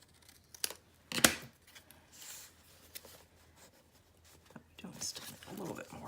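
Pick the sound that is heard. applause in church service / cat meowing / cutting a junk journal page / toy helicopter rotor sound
cutting a junk journal page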